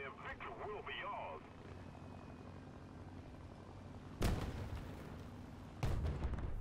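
A low-tier British B-17 bomber in a flight combat video game releases its last bomb: a steady engine drone with a voice at the start, then two loud, sharp blasts a second or so apart.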